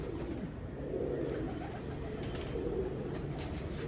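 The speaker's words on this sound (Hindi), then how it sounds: "ये इस कबूतर की नोट है।" A single pigeon coos softly in a couple of low, rounded phrases over quiet background hiss, close to the microphone, with no talking.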